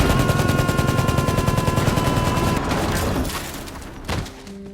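A long rapid burst of machine gun fire in a film rattles loud and continuous, then tapers off into a few scattered bangs.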